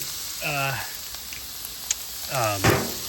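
Mixed vegetables sizzle on a hibachi grill beside rice, a soft continuous frying hiss running throughout, with a couple of brief voiced interjections and small clinks breaking in.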